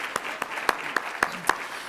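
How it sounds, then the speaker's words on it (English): An audience claps in a short, thin burst at a morning charity breakfast, a handful of distinct sharp claps spaced out over a light background murmur. "So let's give them all a round of applause for an amazing morning."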